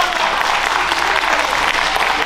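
Dense applause from a comedy show audience in Brazzaville, loud and steady throughout, with no talk over it.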